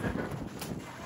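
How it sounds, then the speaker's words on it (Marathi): Strong wind buffets the microphone on the hill at Jivdani Mata temple in Virar, a dense, steady rumbling roar with no gaps that swells slightly around the midpoint. "तर हवा खूप येते, वारा सुटलाय"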